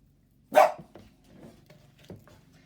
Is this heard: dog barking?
yes